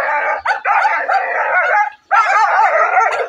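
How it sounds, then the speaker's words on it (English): Several dogs bark, yip and howl together at a female dog breeder's kennel in Kokuro, loud and close in two sustained bursts with a short gap between them, no talking. "I'm in the den of dogs."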